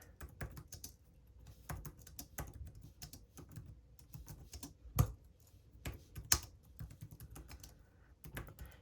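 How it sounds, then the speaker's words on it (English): Fingers tap out text on an iPad keyboard in a quiet room, a steady patter of light, close clicks with a couple of sharper, louder taps standing out. "And let's just type something really quick."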